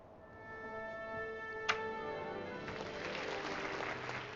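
Short burst of applause-like clapping closing a building's tap sound in The Simpsons Tapped Out, a soft crowd of claps swelling in the second half over a sustained musical tone, with a bright tick near the start.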